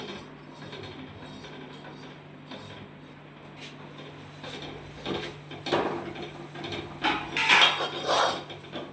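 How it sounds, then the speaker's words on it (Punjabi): A ladle stirs roasted flour into boiled milk in a pan, giving irregular scraping, clinking knocks against the metal that grow louder and busier toward the end over a steady background hum. "ਨਾਲ ਨਾਲ ਆਪਾਂ ਕੜਛੀ ਫੇਰ ਚਲਾਉਂਗੇ ਤਾਂ ਕਿ ਕੋਈ ਗੱਡ ਨਾ ਹੋਵੇ"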